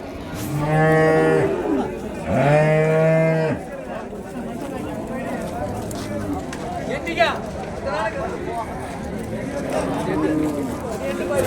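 Cattle moo loudly twice in long, drawn-out calls at the Vaniyambadi livestock market, followed by a busy background of chatter and distant lowing from other animals.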